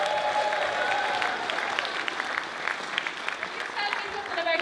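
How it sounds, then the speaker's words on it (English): A live show audience claps for a dancer, with dense applause and scattered sharper individual claps, fading slightly then swelling again near the end. "Give Ethan a big clap."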